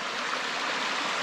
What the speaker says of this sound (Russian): Похоже, воду она держит, потому что вода вон обтекает все вокруг. Вот везде течет